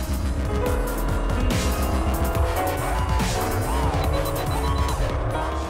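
A dirt track race car slides sideways through a course, its engine revving and wavering loudly with tire squeal and skidding throughout, heard close and continuous.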